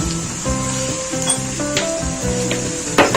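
Garlic ginger paste dropped into onions frying in a pan for Lahori chickpea curry, giving a steady close sizzle with light stirring scrapes and a brief clatter near the end.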